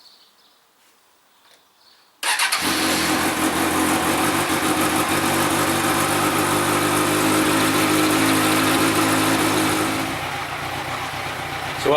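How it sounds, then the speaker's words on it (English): A Kawasaki Z1000 motorcycle engine starts abruptly and settles into a loud, steady idle with a low rumbling hum, running continuously close by in a garage. "just to run the engine for a few minutes"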